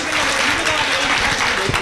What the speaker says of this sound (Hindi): एक बार हमारे मोहित भैया के लिए फिर से आप तालियां